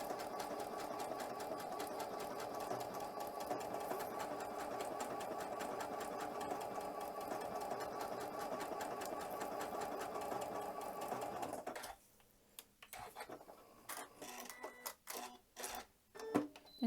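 A sewing machine rattles steadily as it stitches ribbon onto a Christmas cracker, a fast, even mechanical whir held close and clear for about twelve seconds, then stopping into scattered handling clicks and taps.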